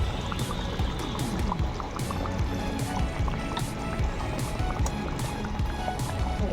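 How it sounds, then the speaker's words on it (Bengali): Ghee and green chillies going into a katla fish curry as it cooks, with continuous bubbling, watery sloshing and soft spattering that stays close and steady throughout. "অবশেষে কাঁচা লঙ্কা একটু ঘি দিয়ে দেবো"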